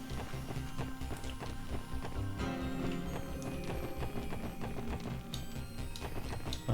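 Horses trotting in the video game Trails from Zero, with a rhythmic clip-clop of hooves under a steady layer of game music, moderately loud and continuous.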